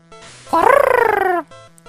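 A human voice imitates the bird cry of the Pokémon Pidgey with one loud, close, warbling squawk of about a second that rises and then falls, with silence around it.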